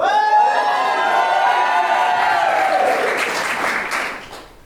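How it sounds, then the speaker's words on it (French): A theatre audience at an improv show claps and cheers, a loud sustained mix of applause with shouts and whoops from the crowd that swells and then fades away near the end. "Merci de les applaudir et de les encourager"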